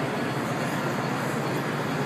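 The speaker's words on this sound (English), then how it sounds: "There's another train." A Chicago metro L train passing at a train display, heard as a continuous broadband roar and rumble holding steady and fairly loud for about two seconds, with no talk over it.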